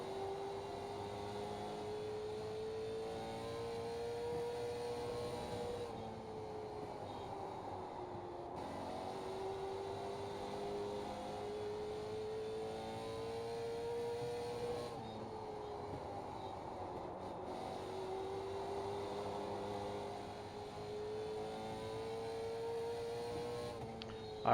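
Late Model Stock car engine lapping Myrtle Beach in the iRacing sim, heard from the in-car view: a steady loud drone whose pitch climbs along the straights and drops into each corner, repeating in a regular lap rhythm with no talk.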